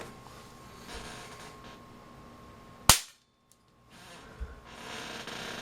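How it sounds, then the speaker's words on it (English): An IC inside an ANENG AN8008 handheld multimeter bursts under high voltage with a single sharp, loud crack that stands out alone against a quiet background. "just blew the casing right off of the main IC"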